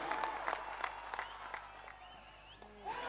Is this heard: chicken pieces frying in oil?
no